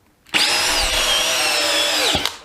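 A DeWalt DCD701 and a Milwaukee M12 FPD Gen2, both 12V brushless drills, bore into wood with a loud whine that starts abruptly, holds for about two seconds with shifting pitch, then cuts off.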